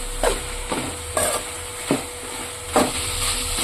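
A utensil stirring chicken curry with ginger-garlic paste, turmeric, garam masala and chilli powder in a pan. About six distinct scraping knocks come at a steady, unhurried pace over a soft background sizzle, with no voices.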